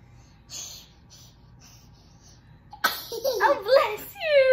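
A toddler sneezes once, sharp and close, followed by a burst of high child vocalizing; soft breathy sounds and quiet room tone come before it.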